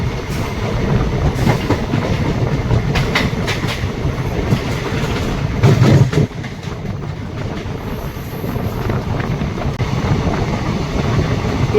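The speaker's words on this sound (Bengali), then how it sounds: "এখান থেকে ট্রেন বেশ ভালো স্পিড নিয়েছে।" From inside a carriage of the Maa Tara Express, Rampurhat to Sealdah, the train runs at speed past Bolpur: a loud continuous rumble with rhythmic clickety-clack of wheels over rail joints and a brief louder burst midway.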